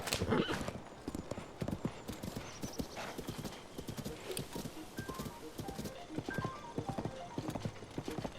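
Epona, a horse in Tears of the Kingdom, clip-clops along in steady rapid hoofbeats with a loud whinny near the start, close and continuous over game ambience.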